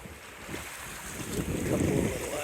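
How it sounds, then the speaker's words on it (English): Wind blowing hard across the microphone aboard a West Wight Potter sailboat near islands, a steady roaring rush with water wash swelling louder toward the end. "The wind is coming straight in."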